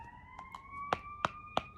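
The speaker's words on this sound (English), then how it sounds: "ambulance" An ambulance siren wails at a steady pitch, and several short sharp bursts cut in over it. It sounds fairly distant, with no talk.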